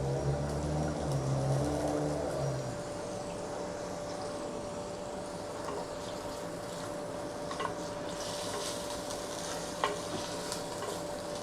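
Chicken and onions fry together in a karahi for Balochi karahi, with a steady close sizzle and crackle throughout, a brief stirring clatter near the start and a few light utensil clicks later, with no talking.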